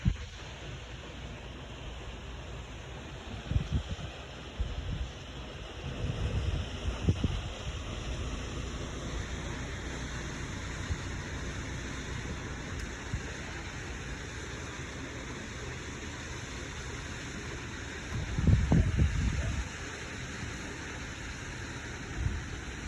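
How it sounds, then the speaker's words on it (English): Steady outdoor wind roars over the microphone on a canal boat, with a few heavier buffeting gusts thumping low at intervals. "it is getting really windy"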